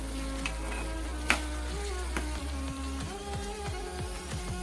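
Vegetables for sambar fry over medium heat in a pan, a steady soft sizzle with a few sharp clicks and scrapes of stirring, close and continuous, no voices.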